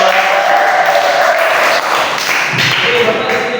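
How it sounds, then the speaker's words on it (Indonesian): A classroom of students claps in applause, a dense burst of many hands that holds steady for several seconds, close and fairly loud, with a few thumps mixed in. "Oke, tepuk tangan dulu dong."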